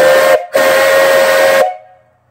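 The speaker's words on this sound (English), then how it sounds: "Really nice whistle." Steam whistle on a live steam engine boiler, a loud sustained shrill blast, briefly broken by a short gap, then cut off with a fading hiss.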